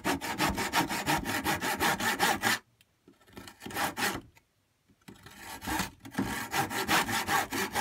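A fine-bladed dovetail saw, a smaller tenon saw, cuts through wood by hand in quick, even back-and-forth strokes, pausing for a few seconds midway with some light scraping before the rhythmic sawing resumes, close and clear.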